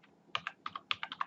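A computer keyboard is typed on in a quick burst of about eight crisp, close keystrokes, with no voices.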